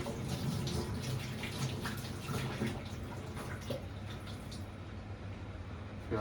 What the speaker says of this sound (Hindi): पहले टमाटर को अच्छे से धो लेते हैं